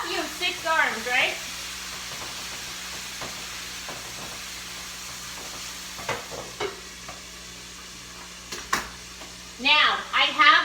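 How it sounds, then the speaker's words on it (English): Food stirred in a hot frying pan with broccoli rabe, soft sizzling and scraping under a steady background hum, with speech at the start and end of the clip. "Keep everything stirring."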